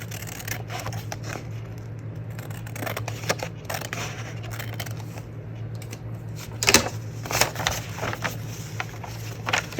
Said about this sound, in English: Okay, so I'm gonna cut this little edge off.